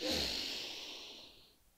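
A slow, prolonged exhale from a breathing exercise for calming anxiety, a soft breathy airflow that starts strongest and fades gradually over under two seconds, close and alone.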